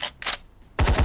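M4A4 rifle firing in the video game BloxStrike: two short bursts followed by a louder, denser automatic burst at the end, each shot crisp and close with no talk over it.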